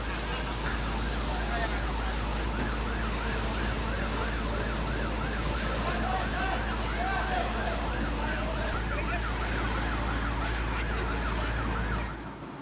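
A fire engine's siren wails at a fire scene in Indonesia, a steady up-and-down tone buried under loud crowd noise and rumbling engines, with a reporter's voice talking over the top.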